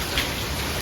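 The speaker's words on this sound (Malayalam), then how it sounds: "അപ്പൊ പുറത്ത് നല്ല മഴയാണ്" Heavy rain pours steadily outside as a dense, even hiss with no pauses, close and fairly loud.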